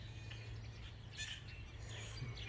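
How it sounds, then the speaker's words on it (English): Small finches chirp outdoors around a bird feeder, giving faint, scattered high tweets over a steady low background hum, with no talking. "Lots of finches are out here now"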